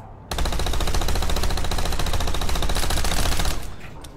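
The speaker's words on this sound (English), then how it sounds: "I'll do a mag dump first." A sustained magazine dump of rapid automatic gunfire, a continuous loud stream of shots lasting about three seconds before cutting off with a short echo.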